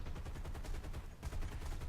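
Rapid bursts of aircraft cannon fire from a plane in the World War II game War Thunder, a dense, loud chatter of repeated shots with brief pauses.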